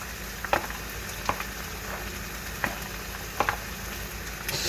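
Onions sizzle in a frying pan for fish fried rice, a steady close hiss broken by several light clacks and scrapes as more onion drops in and gets moved around.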